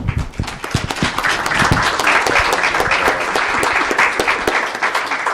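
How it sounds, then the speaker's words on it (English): Audience applause fills a Hanukkah play, dense steady clapping from a crowd, loud and sustained throughout with sharp individual claps near the start. "Now let's give everyone a big round of applause."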